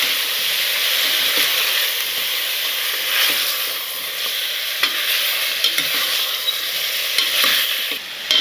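Country chicken pieces fry in hot oil while being stirred, giving a steady close sizzle broken by soft scraping and light clicks of the spoon, with no talking.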